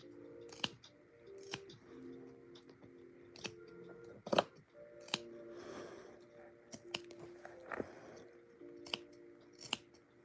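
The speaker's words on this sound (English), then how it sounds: "They are very, very good scissors, which makes sense considering their price tag." Expensive, high-quality scissors snip at an irregular pace, each crisp click close and distinct, with faint tonal hum and rustling between cuts.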